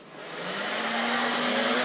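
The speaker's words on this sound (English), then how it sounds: "you burn her blow dryer up" A blow dryer used for DIY spear grip work starts up and climbs to a loud, steady whooshing roar with a constant motor whine underneath, close to the microphone and with no talking.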